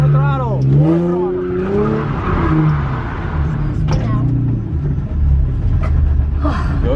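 Car drifting under heavy throttle, engine revving and tires skidding and squealing across pavement, with a voice coaching loudly over the engine noise.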